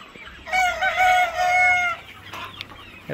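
A rooster crows loudly and close by in one long drawn-out call, with soft clucking and farmyard chicken noises before and after it.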